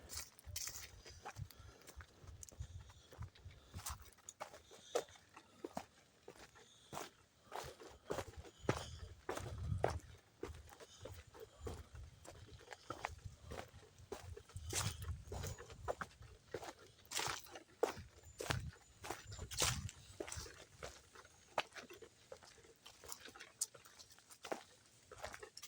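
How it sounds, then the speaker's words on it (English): Steady, soft footsteps crunch and patter along a lakeshore trail in a state park at a walking pace, continuing throughout with faint outdoor ambience and no talking. "And we work our way down the trail."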